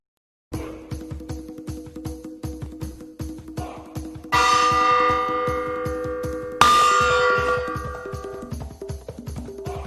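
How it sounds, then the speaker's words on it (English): During a Hades stream, a gong alert rings out twice over a rapid steady rhythmic backing, each strike blooming into a bright, long, shimmering decay. "Gong time, yes, sir."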